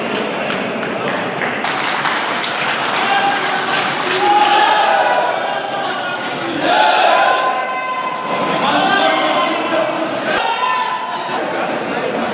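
Loud crowd noise at a BJP political event, standing applause and cheering sustained throughout with swells of excitement, heard up close and filling the whole space.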